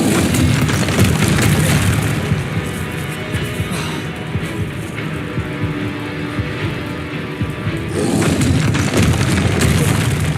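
A Confringo explosion spell in the Hogwarts Legacy video game sets off loud, dense booming blasts that rumble through the scene, easing briefly in the middle before a second heavy burst.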